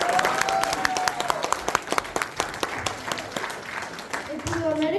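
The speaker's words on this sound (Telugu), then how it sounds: "అందరూ శ్రద్ధగా చూస్తూ గట్టిగా చప్పట్లు కొడుతూ ఉండండి" Parents at a children's school festival clapping and applauding, a dense burst of hand claps under a voice speaking over a microphone.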